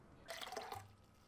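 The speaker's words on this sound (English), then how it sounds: "Pouring on my drink." A drink is poured into a glass, making a faint, brief splash and trickle of liquid that lasts under a second against quiet background hiss.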